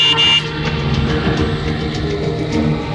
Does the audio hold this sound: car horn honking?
yes